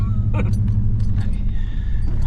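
Pickup truck engine idling nearby with a steady low rumbling hum and faint light clinks over it.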